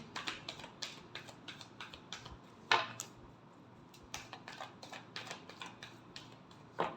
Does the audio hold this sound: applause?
no